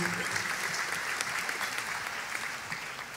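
Sustained audience applause at an interfaith national gathering held at an Islamic boarding school in East Java, a dense, steady clatter of many hands clapping close by with no break.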